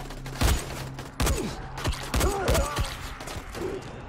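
Gunfire from the video game Dying Light comes as a fusillade: several sharp, loud shots spaced irregularly across a few seconds, with creaks and mechanical clatter between them and no talk.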